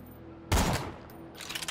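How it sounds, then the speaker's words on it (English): Gunfire in the video game Borderlands 2 from a slow-firing gun that fires two rounds per shot: one loud, sudden blast that fades over about half a second, then a second quieter burst of shots. "it can fire two rounds in one shot, which makes it even more powerful with its fire rate"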